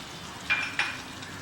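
Two quick scraping strokes of a utensil in a pan of chicken bhuna over a faint, steady sizzle, close by and fairly quiet.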